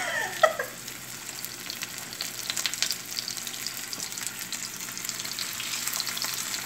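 Macadamia-crusted mahi mahi fillets fry in very hot oil, giving a steady, close crackling sizzle with a faint clatter near the start, and no voices.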